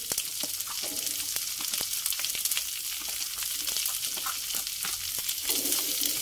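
Onions sauté in a pan after fragrant garlic for chicken liver and gizzard in oyster sauce, a bright continuous sizzle and crackle with scattered sharp pops, close and steady.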